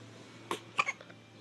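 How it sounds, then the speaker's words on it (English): A baby hiccups in two short, close bursts about a third of a second apart, the second sharper and louder, over a quiet room. "Is it those hiccups?"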